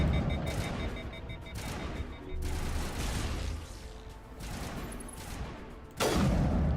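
Player weapon fire in Mass Effect, a video game: loud, sustained bursts of rapid automatic shots that roll on with brief dips and swell sharply again near the end.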